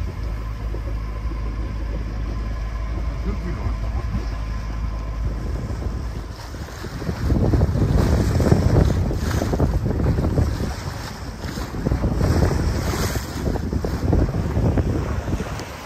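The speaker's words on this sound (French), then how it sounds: "un petit semblant de vent." Wind gusts roar across the microphone aboard a sailboat off the Greek Cyclades, a low rumble that swells strongly midway with faint water wash beneath, no voices.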